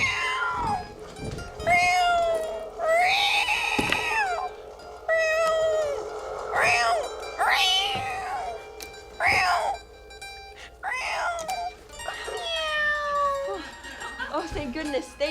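A cat that has been sucked into a vacuum cleaner meows in a series of drawn-out, wavering cries, some rising into yowls, fairly close. A steady hum and occasional thumps sit underneath.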